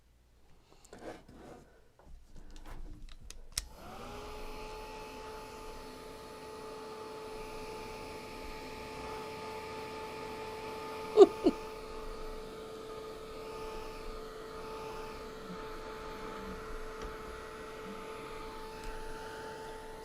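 A hair dryer-like blower runs steadily, drying wet watercolor paint on a painting, with a constant close whir and a couple of brief clicks partway through, no talking.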